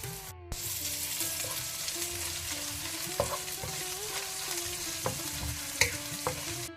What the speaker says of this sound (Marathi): लसूण आनी आलें भाजून आयलें म्हणटाना ताका 2 ताळयो बेवाच्यो आमी घालया.